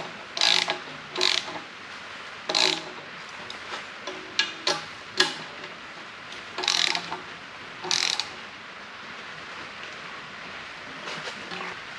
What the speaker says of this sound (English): join us back in a second when I take this turbo apart